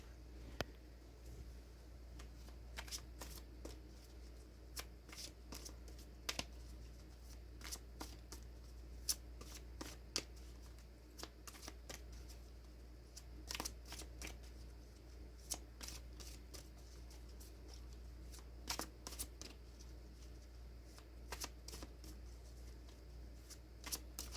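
Tarot cards being shuffled by hand, soft papery riffles and crisp flicks scattered irregularly over a quiet room with a low steady hum underneath.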